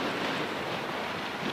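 Strong wind gusting off the water in the Black Hills of South Dakota buffets the microphone in a steady, broad roar, with no voices.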